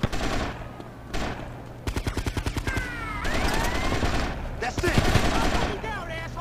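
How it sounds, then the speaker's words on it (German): AK rifle gunfire in the video game GTA Vice City Stories, loud rapid automatic bursts of evenly spaced shots mixed with other game sounds and scattered shots, close and dense throughout. "Wo schießt der einer mit der AK rum?"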